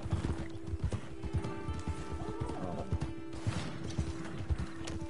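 Galloping hooves pound rapidly and evenly from a tired horse in Red Dead Online, mid-loud and near, layered over a sustained game ambience and faint mechanical clicking, no talking.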